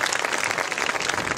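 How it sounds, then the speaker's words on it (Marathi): An audience at a gathering breaks into a brief, dense burst of loud applause, many hands clapping at once. "आपण सगळ्यांसाठी एकदा जोरदार टाळ्या"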